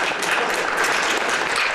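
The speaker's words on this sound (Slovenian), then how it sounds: "en aplavz si to zasluži" Brief burst of audience applause at a folk-music television show, continuous and fairly loud clapping throughout.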